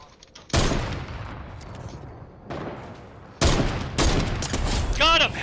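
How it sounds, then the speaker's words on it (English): Bursts of gunfire from a squad-based shooter video game, loud and close, with broadband blasts starting and stopping in several sustained volleys over a few seconds, plus a brief rising ricochet-like whine near the end. "Shots across the bottom."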